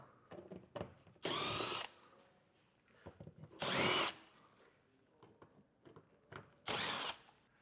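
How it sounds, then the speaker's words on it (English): A power drill with a T30 Torx bit removing screws during a Roadmaster Direct-Connect base plate installation on a 2024 Ford, giving three loud, close, steady whirring bursts about two seconds apart, with light clicks and handling noises in between. "Now we're going to take a T30 Torx bit and we're going to have 4 screws in these kind of cutouts here that we'll have to take out."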